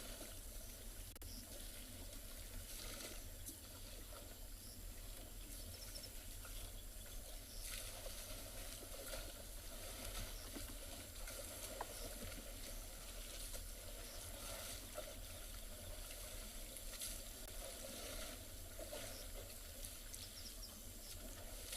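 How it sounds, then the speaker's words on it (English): An elephant splashes water over itself on a morning safari drive in South Africa, a faint, steady wash of splashing and trickling water heard from a distance with no talk. "there's some beautiful sounds coming from that elephant splashing themselves"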